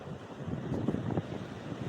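Rough sea surf at Digha beach at night makes a low, churning wash mixed with wind buffeting the microphone, swelling in the middle and fairly distant.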